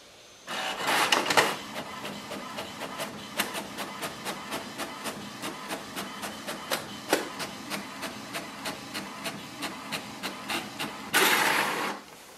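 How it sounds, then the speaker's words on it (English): An HP Smart Tank 7605 inkjet printer runs a page, with bursts of feed whir at the start and end and a steady series of rhythmic clicks and print-head passes between them, close and clear. "Setup is complete, let's print a page."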